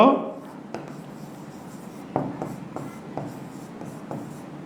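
Chalk or pen strokes are written by hand during a geography lecture, short scratchy taps and rubs spaced irregularly at close range, with a speaking voice at the start.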